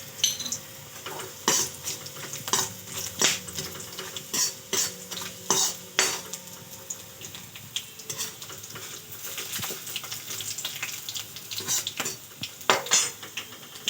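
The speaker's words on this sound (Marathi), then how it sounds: "आता याच्यामध्ये आपण जिरं मोहरी टाकू" Cumin and mustard seeds sizzle in a pan for poha, under a series of sharp, close metallic clinks and scrapes as a spoon stirs against the pan.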